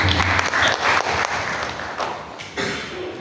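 Applause from a church congregation during a morning worship service, a dense wash of many hands clapping, moderately loud, tapering slightly toward the end with no speech over it.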